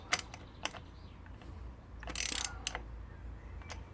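A 13mm bolt being undone on the metal seat post of a balance bike, heard as a handful of close, sharp metallic ratchet clicks and a brief louder grinding burst midway, in a quiet room without talk.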